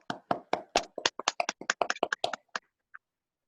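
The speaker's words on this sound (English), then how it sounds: "Can we take a moment to give an applause for that for Mr." Sparse clapping at an Alabama State University alumni chapter scholarship event in honor of Mr. Daniels, a small handful of distinct hand claps in quick irregular succession that thins out and stops, with one final lone clap.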